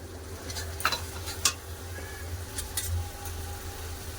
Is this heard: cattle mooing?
no